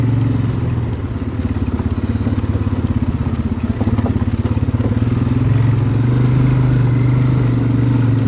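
An ATV idles and crawls over rocks, its engine holding a steady, close, rumbling drone. Light clattering and bumps from the rough ground sit on top, with no talk.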